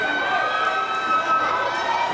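Wrestling crowd at an I Quit match between Bandido and Eddie Kingston roars and cheers steadily for Bandido, a dense, sustained arena wash with shouts rising through it.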